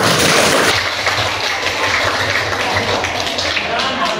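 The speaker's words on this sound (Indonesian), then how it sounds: "Berikan tepuk tangan pada" A classroom of students claps for a group of classmates, a steady burst of applause that is loudest at the start and carries on at a level under the room's noise.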